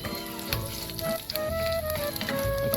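Garlic frying in hot oil in a pan, the first step of a Filipino sardine sarciado; a steady, close, dense sizzle runs throughout with faint tonal sounds in the background.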